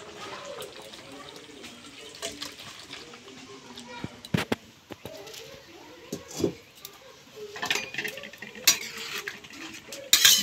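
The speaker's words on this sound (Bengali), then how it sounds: "এটাকে এবার আমি নামিয়ে নেব।" A pan of vegetarian paneer curry comes off a home kitchen stove amid scattered metallic clanks, scrapes and light sizzling, close and fairly quiet, while someone speaks intermittently.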